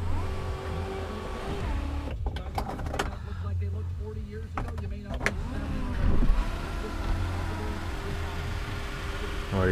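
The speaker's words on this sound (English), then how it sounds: "Or you can open up the sunroof all the way" Electric sunroof motor on a 2003 Audi B6 A4 3.0, a smooth mechanical whir running for a few seconds with a soft stop, close by inside the car amid faint background noise.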